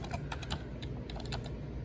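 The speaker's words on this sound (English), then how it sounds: "Sorry, I'm typing with one hand." Fast, quiet clicks from a computer keyboard come in an irregular one-handed typing rhythm, with a low background rumble underneath.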